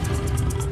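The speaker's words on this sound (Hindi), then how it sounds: "गोलू जानवर की दहाड़ को कोसों दूर से सुनकर महसूस कर सकता था।" A tiger roars in a jungle near grazing goats, a steady, loud, low rumbling growl that fills the short stretch with no pauses.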